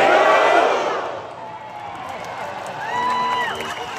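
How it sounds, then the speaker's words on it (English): Concert crowd at a live show shouting together on cue, a loud massed roar that fades, then rises again with scattered cheering. "after three, I want you to say, Sammy who?"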